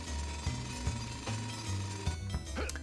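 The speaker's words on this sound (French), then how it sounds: "On entend un marteau-piqueur." Jackhammer pounding inside the Toy Story 2 video game, a steady low mechanical rattle with repeated sharp bursts of hammering, fairly loud and continuous throughout with no talking.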